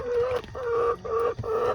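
Chickens cluck and squawk in a run of short, rising calls broken by brief pauses, close by and fairly loud, with no talking.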